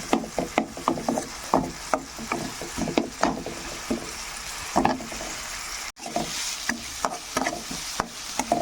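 Onions being fried in oil for egg curry, a soft sizzle under repeated scraping and stirring strokes of a spatula in the pan, close and irregular, with a brief pause midway.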